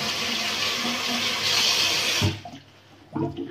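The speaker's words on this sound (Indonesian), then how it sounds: "Aku mau cuci tangan dulu, makan." Water running from a hotel bathroom tap while hands are washed, a steady broadband splash for a couple of seconds that cuts off, followed by a few faint drips and handling sounds.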